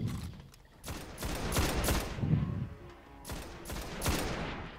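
Gunfire in the Destiny video game, fired at an enemy from a distance, comes as a string of sharp shots and bursts with a few gaps. The shots are fairly loud and sit over a steady background of game sound.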